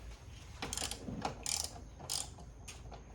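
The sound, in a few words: ratchet tightening bolts on BMW 330i engine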